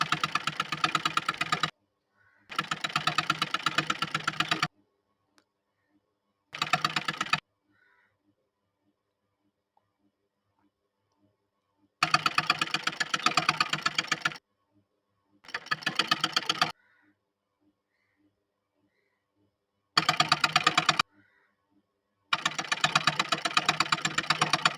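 A domestic sewing machine stitches a kurti sleeve seam in repeated rapid bursts of one to three seconds each, its close mechanical chatter separated by pauses of near silence, with no talk.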